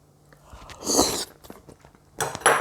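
Steamed egg eaten with a spicy doubanjiang and miso sauce, heard as a few close, soft bites and wet chewing in short bursts, with small clicks between them.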